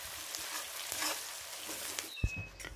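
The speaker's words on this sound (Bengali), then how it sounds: "পেঁয়াজগুলি ভালো করে লাল লাল করে ভেজে নেব" Two onions sizzling in hot oil in a pan while being browned for a Bengali egg-poppy-seed dish, a quiet steady hiss with a few soft clinks and a brief knock near the end.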